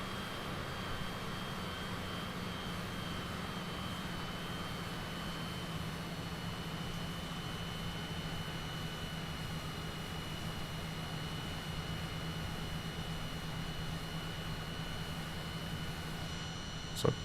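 An aircraft in Flight Simulator 2020 rolls along a bumpy runway, its engine giving a steady, even roar and hiss throughout with no talk.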